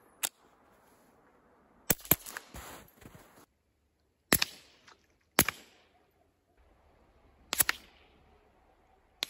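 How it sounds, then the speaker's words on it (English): A suppressed pistol fires .22 LR rounds at dusk outdoors, giving several sharp cracks, some single and some in quick pairs, spread out with quiet gaps between them. "now we're gonna run some 22 LR out of a suppressed pistol"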